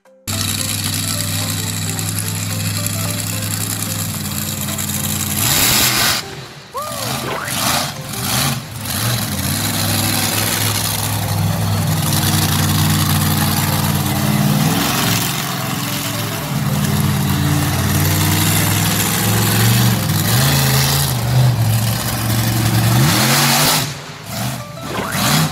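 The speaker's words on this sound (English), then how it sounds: "Let's check out a real video of a monster truck smashing some cars." Monster truck engine roaring loudly and steadily as it crushes cars, with deep rumbling, brief dips and surges, and crashing, clattering impacts through the middle, no voices.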